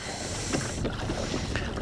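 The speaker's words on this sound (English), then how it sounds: "I hear a boat." Boat motoring past on open water near rocks at dawn, a steady low wash of engine and water noise running through the whole moment without talk.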